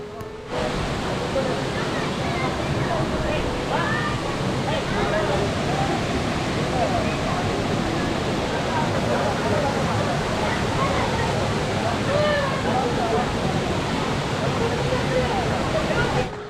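Vibhuti Falls, a monsoon-season waterfall in the forest near Gokarna, pours in a steady, dense roar that fills the whole stretch without a break, loud and close, with faint bird calls above it.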